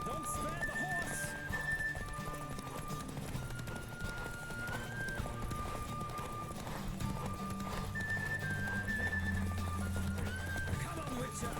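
Horse hooves gallop in The Witcher 3, with steady clip-clop beats and an occasional whinny running beneath a game music bed and spoken voices.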